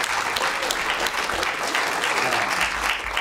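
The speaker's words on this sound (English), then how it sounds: "let's have a round of applause for Koji." A museum film screening audience applauds, giving a continuous, even wash of many hands clapping at close range for the whole stretch, with no voices standing out.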